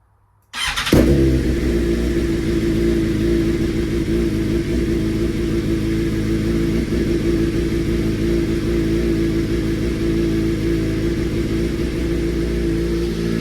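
A BMW M1000RR race motorcycle engine fires up abruptly and keeps running at a loud, steady, buzzing idle close by, with no talking.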